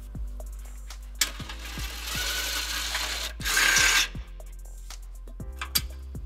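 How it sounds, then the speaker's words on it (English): A ratchet with a 12mm socket turning out bolts while installing a trailer hitch on a 2015 Nissan Xterra, heard as close, evenly spaced clicking pawl ticks with a brief louder whirring spin in the middle. "we can use a 12mm socket to get the other 2"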